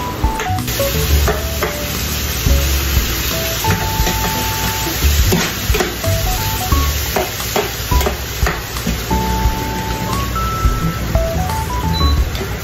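Chicken pieces being sautéed for adobo in a hot pan, a steady loud sizzle running throughout with frequent stirring and scraping, plus some high tonal beeps in the background.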